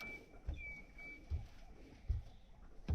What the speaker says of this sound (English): Can you hear the birds? And there's nothing except birds.